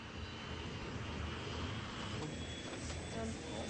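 Continuous airliner jet engine drone in flight, a steady broadband rumble with a faint high whine, mid-level and unbroken, with no distinct voices over it.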